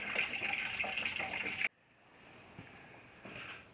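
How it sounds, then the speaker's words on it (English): Coolant pours from an open radiator drain cock on a vehicle with a front winch, a steady close rush of liquid that cuts off abruptly, leaving faint trickles and drips behind. "Alright, drain cock's open. Drain in the radiator."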